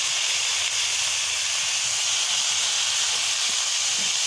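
Pieces of freshly picked bottle gourd hit a hot pan with turmeric, giving a loud, steady, broadband sizzle that hisses continuously up close without any speech.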